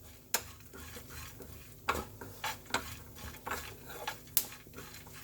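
Fennel seeds dry-roasting with dry fruits in a hot pan, a faint soft patter broken by several sharp clinks and scrapes of a spoon stirring against the metal.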